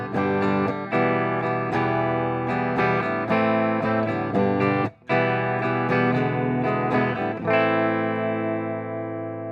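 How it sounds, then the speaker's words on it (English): A clean electric guitar played straight into an Orange amp and cab, all pedals off, rings out with bright, full chords and picked notes, plainly amplified with no heavy effects, sustaining warmly between strums. "Here's the sound of the guitar going straight into the amp"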